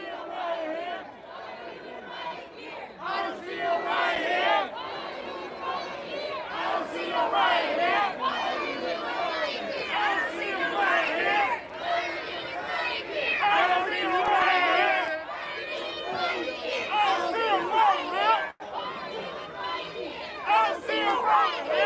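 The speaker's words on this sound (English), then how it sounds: "The crowd is screaming, "Why are you in riot gear? I don't see a riot here."" A dense protest crowd at a George Floyd demonstration shouts and screams at police in riot gear, a loud, continuous wall of overlapping voices with surging yells throughout.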